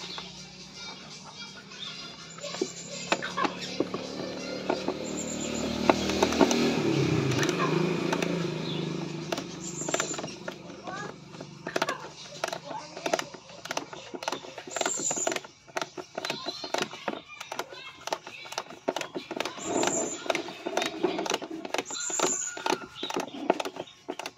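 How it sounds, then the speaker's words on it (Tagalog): An Allen-key ratchet clicks in quick bursts while a rear tire hugger is fitted to a Honda Click V3 scooter, the close rapid ratcheting repeating over and over, with a spell of creaking and handling noise partway through. "So kailangan natin ng ratchet na allen."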